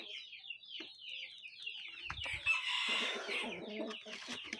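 Pelung chicken crossed with Bangkok chicken clucking close by, a string of repeated clucks with a busier burst of fowl calls and scuffling in the middle, all without speech.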